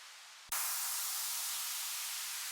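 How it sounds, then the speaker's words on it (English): Bright, full-band white noise swells in abruptly after a brief quieter passage and then holds steady and loud as a sustained hiss, used as an effect in the drop of an electronic dance remix. "Got some white noise down"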